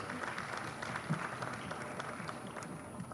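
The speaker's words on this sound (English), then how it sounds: "Can we give them a round of applause?" Applause from an audience at the launch of Uganda's digital transformation roadmap, a steady broadband patter of clapping that runs unbroken for about three seconds at moderate level.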